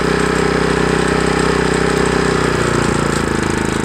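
A GENMAX GM3500iAED inverter generator engine idles with a steady, loud, close-up drone and a fine rapid pulsing throb, holding evenly throughout with no talk.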